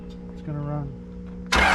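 2nd gen Cummins diesel engine turning over briefly, then catching with a sudden loud burst of broadband noise at the end, close by, a voice talking over the start.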